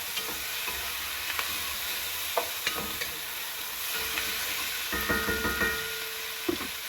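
Celery and peas are stirred into Spanish rice in a hot pan. A steady sizzle runs throughout while a spoon scrapes and clinks against the pan in irregular bursts, close up, with no talking.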